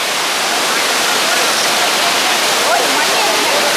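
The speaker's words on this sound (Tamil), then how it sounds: "இதான் அந்த மெயின் ஃபால்ஸ் குற்றாலம் வருது" Courtallam main waterfall roars as a dense, steady rush of falling water, loud and close, with a faint voice underneath.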